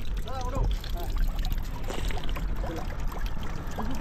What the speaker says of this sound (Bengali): বাঁশের এখান থেকে কিন্তু জলটা সেরকম এখানে পড়ছে